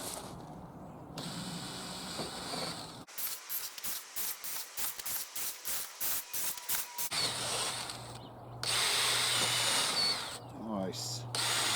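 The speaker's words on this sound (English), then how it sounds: "what I'm going to do now is put the pilot drill through all of these" Pilot drill bit boring through composite boarding on a metal driveway gate, heard as a run of rapid, rhythmic bursts of high-pitched grinding, each short press starting and stopping, between steadier stretches of whirring noise.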